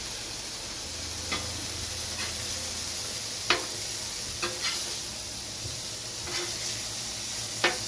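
Smash burger patties frying on a hot griddle just after being flipped, giving a steady broad sizzle with a few sharp spatula scrapes and clicks over it, close up, with no one talking.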